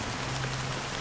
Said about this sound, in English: How long has this rain been ongoing?